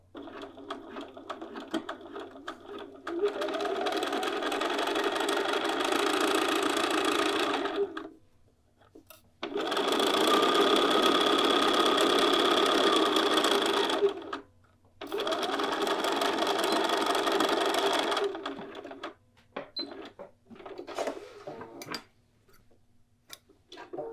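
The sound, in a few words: sewing machine backtacking a seam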